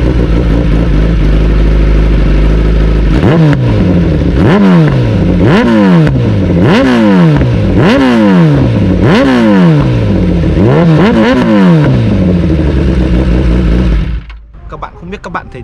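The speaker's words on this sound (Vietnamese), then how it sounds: "mở máy lẹp thử con Bo mới này cho các bạn, để các bạn so sánh âm thanh giữa hai con Bo nhé" A motorcycle fitted with a new aftermarket exhaust pipe revs hard in about eight sharp, rising bursts, loud and close, then the engine cuts off near the end.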